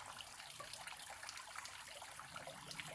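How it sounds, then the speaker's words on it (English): Water trickles steadily over a creek bed, a soft, continuous outdoor babble with no voices. "I'm at the creek."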